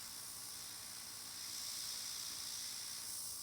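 Airbrush spraying nail paint through a stencil at a nail-art workshop, a soft steady airy hiss that grows slightly stronger midway and runs on continuously, close and quiet with no talk.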